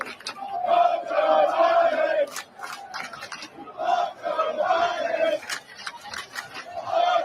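Stadium crowd at a sporting event chanting in loud, rhythmic waves, several repeated bursts of massed voices rising and falling with brief dips between them.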